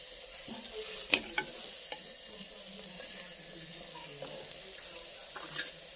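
Crushed garlic sizzling and frying in hot oil with a steady low crackle, broken by a few sharper clinks and stirring knocks close by, no voices.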